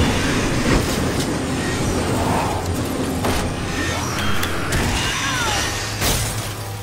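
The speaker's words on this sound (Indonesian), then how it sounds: "Oh, awas ada kereta bang." A train rumbles past in the video game Resident Evil 6, a loud continuous rolling roar with rhythmic rail clatter and a few sharp squeals and whooshes, close and steady throughout without talk.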